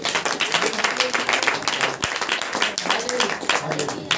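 Congregation at a Saturday church power meeting clapping together, a dense steady patter of many hands lasting throughout, close and loud, with voices mixed in.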